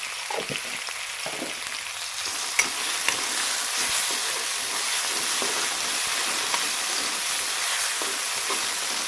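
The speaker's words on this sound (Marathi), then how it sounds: "तर बघू शकता मिरची छान तळलेली आहे आणि लसण पण" Green chilies and garlic sizzle in a hot pan, a steady, bright frying hiss with occasional crackles and soft stirring scrapes, close and continuous without any voices.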